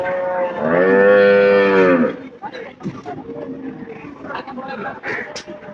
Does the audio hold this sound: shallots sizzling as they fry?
no